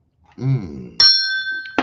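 A brief voiced sound comes first, then a bright bell strikes once and rings with a sustained metallic tone. A second sharp strike cuts in at the very end.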